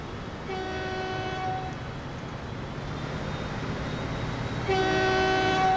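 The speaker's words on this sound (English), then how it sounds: "That's a terrific looking train." A train arriving in the game Transport Fever sounds two long horn blasts separated by a rumbling pause, the rolling noise steady underneath and the second blast louder and closer.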